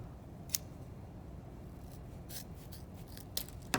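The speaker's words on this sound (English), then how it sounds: "Definitely don't do this with your good scissors because you're cutting through a lot of wire." Scissors snip through wired gift-wrapping ribbon in a few sharp, quiet cuts spaced irregularly over a faint hiss, with no talking.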